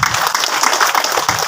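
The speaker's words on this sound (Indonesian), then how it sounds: "Tepuk tangan buat gurunya." An audience at an Islamic sermon claps for the teacher, a brief burst of lively, close applause from a crowd.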